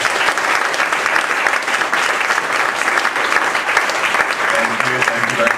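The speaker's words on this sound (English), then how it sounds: "So let's give Chris another big round of applause." Sustained audience applause after a talk at a meetup, dense steady clapping throughout from a room full of people, fairly loud, with a few faint voices emerging near the end.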